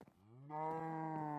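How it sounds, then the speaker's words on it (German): A Minecraft cow lets out a single long, low moo, close and clear, holding steady to the end without any talking. "Noch eine Kuh."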